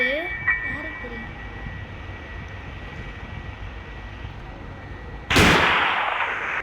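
A single sharp, loud gunshot blast from the video game Granny cuts in near the end of a quiet stretch with faint background game sound.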